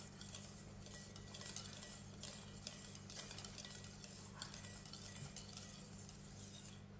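Melted chocolate emulsion for chocolate macarons being whisked in a bowl, a steady busy clinking and scraping of a utensil against the bowl that continues without pause throughout, fairly close and moderately loud.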